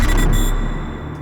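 A synth hit treated with roar distortion and reverb, a loud, bright, dense burst that gradually washes out and fades over about a second, heard alone.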